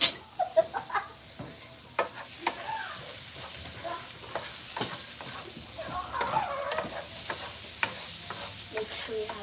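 Butter melts in an already hot pan while shrimp Cajun Alfredo is being made, giving a soft steady sizzle under scattered clinks and stirring scrapes, with no talking.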